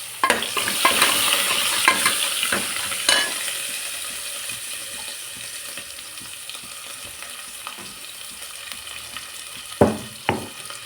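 Curry leaves and dried red chillies crackle and sizzle in hot oil in a pan for brinjal sambar, with sharp spattering pops early on and two loud spits near the end, no voices.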